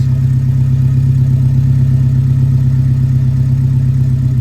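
Steady, deep idle from a 1973 Alfa Romeo GTV with the rear muffler removed, a constant low rumble close by and alone, with no voices.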